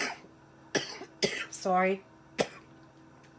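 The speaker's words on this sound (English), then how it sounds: "I have this persistent cough past week or so." A few short, sharp coughs from a persistent cough close to the mic, scattered between brief bits of speech, with a throat-clearing sound in the middle.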